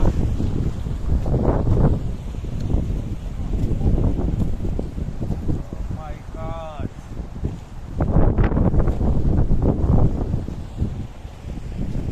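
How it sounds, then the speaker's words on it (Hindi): Mountain waterfall beside the footpath on the Gangotri to Gaumukh trekking trail in the Himalayas, a steady rushing roar with wind buffeting the microphone and people talking over it. "इसे कहते झरना।"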